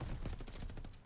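Rapid gunfire bursts from a light machine gun in Call of Duty: Vanguard, a dense run of loud, closely spaced shots firing through cover over about a second.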